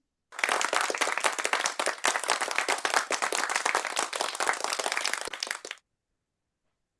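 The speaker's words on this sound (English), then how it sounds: "I put the claps at the end for myself." Hands clapping in a dense, continuous burst of applause at the end of a comedy performance at an International Joke Day event, loud and close, lasting several seconds before cutting to silence.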